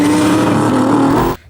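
A 2,000-horsepower Audi R8 engine roars loud and close, holding a steady pitch with a slight rise before cutting off abruptly near the end.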